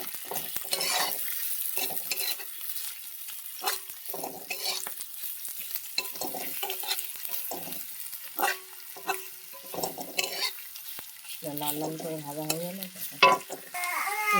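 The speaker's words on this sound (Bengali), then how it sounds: "কাঁচা লঙ্কা, ভালো করে লাল লাল করে ভেজে নেব" Green chillies fry in a pan, with a light sizzle broken by repeated scraping and stirring strokes, plus a brief voice near the end.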